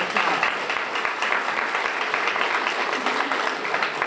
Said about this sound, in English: Can we give all of our honorees another round of applause?